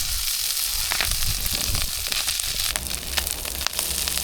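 Corned beef hash from a can crisping in a hot pan over a camp cooking setup, with a steady dense sizzle and crackle and occasional sharp pops and scraping, heard alone without talk.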